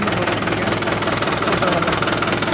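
A 2017 Mahindra 575 DI tractor engine runs in third gear low range pulling a cultivator sunk into a field, a loud, close, steady diesel chug with a knocking pulse.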